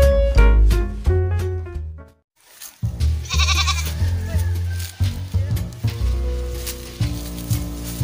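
On a farm, a goat gives several bleats, with a short silent gap between calls, and people talk nearby over the noise.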